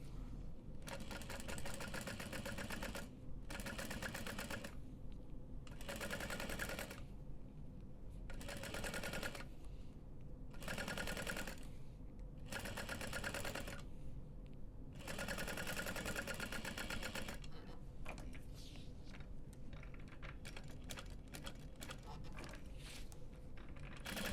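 A sewing machine stitches a fabric backpack at a long stitch length in repeated bursts of rapid mechanical whirring, starting and stopping every few seconds, close and steady, then a faster run of short clicks near the end.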